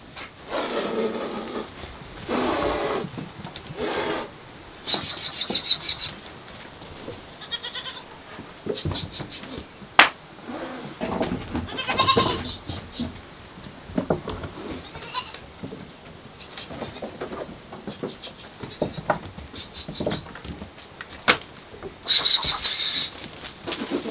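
Goats and young goat kids bleat repeatedly on a farm, a mix of nearby and farther calls in irregular bursts, with occasional human voices talking between them.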